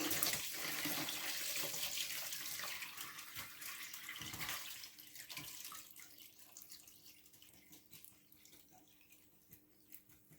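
Brine from a chilli ferment pours out in a steady trickling splash, fairly quiet and close, tapering into softer drips toward the end.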